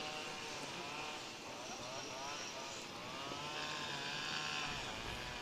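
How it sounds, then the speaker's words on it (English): A string trimmer whines in the distance at an outdoor cricket ground in Alicante, its faint buzzing pitch rising and falling steadily under the general background. "You could probably hear the strimmer going there in the background."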